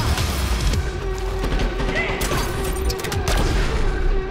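Chaotic explosions and booming blasts in the shooter Dirty Bomb, dense and loud throughout, mixed with gunfire and crashing battle noise.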